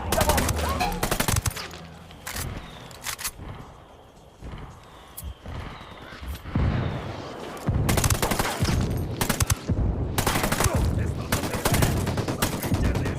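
Gunfire bursts and heavy artillery impacts in the video game Ghost Recon Wildlands, loud volleys repeating in clusters with short quieter gaps between them.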